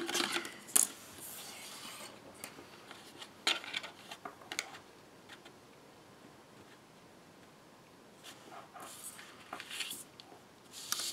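Scissors cutting through paper card while making a holiday card, a few scattered crisp snips and rustles separated by quiet stretches, fairly faint and close.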